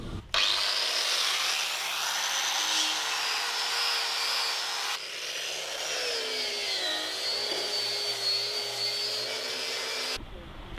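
A power tool cuts slots in steel skins for a boat's wings, giving a loud, continuous high-pitched grinding whine that holds steady for about ten seconds with a brief dip midway.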